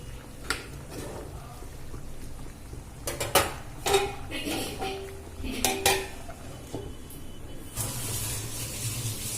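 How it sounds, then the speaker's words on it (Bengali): A lid goes onto a pot of chana dal pulao on a home stove with a scatter of clinks and clatters of metal cookware and utensils, several sharper knocks midway, and a steady low background hum underneath. "এবার আমি এটা ঢাকা দিয়ে দেবো।"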